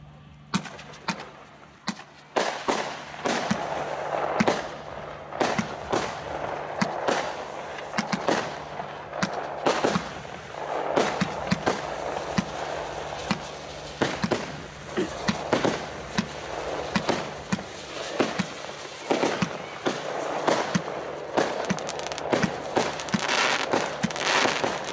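CSH Samurai firework battery, 36 shots of 30 mm calibre, firing a long rapid sequence of sharp bangs and crackles with little pause, loud and close, continuing steadily throughout.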